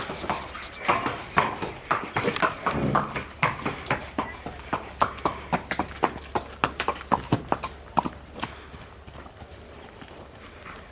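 Horse hooves clip-clopping at a steady walking rhythm while ridden during a riding lesson, clear and fairly close, with faint background noise.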